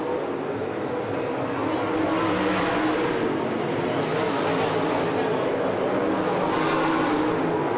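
Super late model race cars roar around a raceway in a continuous, loud, distant blur of engine noise, rising and falling as the pack passes, with no talk.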